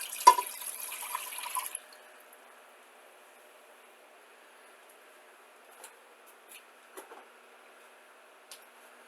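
A quart of water pours briefly into a big cooking pot, a short splashing rush lasting under two seconds, followed by near silence with a few faint clinks.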